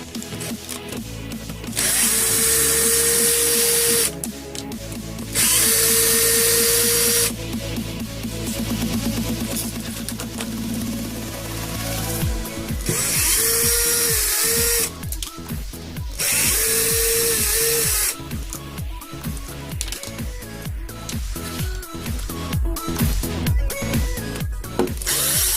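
A power drill runs in repeated bursts, backing out 2mm headed screws from the front bumper of a Vaterra Halix RC truck, whirring loudly in short spurts with gaps of handling noise between them and no talking.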